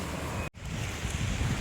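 Sea wind blowing steadily at Jomtien beach in Thailand, a loud continuous rush of wind and surf with one brief dropout, no voices.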